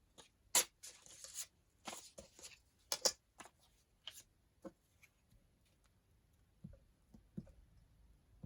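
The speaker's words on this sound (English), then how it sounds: "Maybe I can tear it about there." Book pages being torn by hand during paper crafting with ephemera, heard as a few sharp, crisp rips and crinkles separated by quiet pauses and softer paper rustles, close and fairly faint with no talking.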